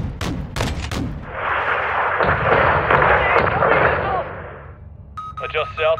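Artillery strike in Call of Duty: Modern Warfare II on PS5, a few sharp launch cracks followed by a long roaring barrage of impacts, then a short burst of radio chatter at the end.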